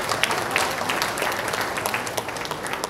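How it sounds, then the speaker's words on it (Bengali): An audience at an Eid reunion gathering applauds the EC members with sustained clapping, individual sharp claps popping out of a dense, even roar of hands. "কাইন্ডলি আমাদের ইসি মেম্বারদেরকে সবাই একটু হাততালি দেন"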